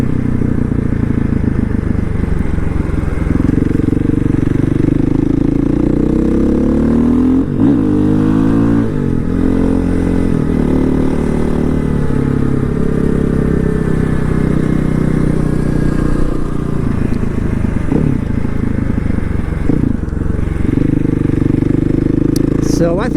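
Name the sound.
KTM 500 motorcycle riding on the street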